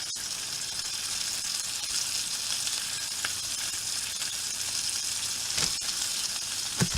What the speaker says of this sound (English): Oh, look at that sizzle.